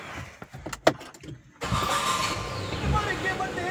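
A Honda Activa scooter is started up close by: a few sharp clicks and knocks, then the engine catches and settles into a steady, fairly loud idle that runs to the end.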